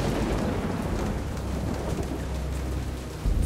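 A thunderstorm in the video game Jurassic Park: The Game, with steady heavy rain and rumbling thunder that swells near the end.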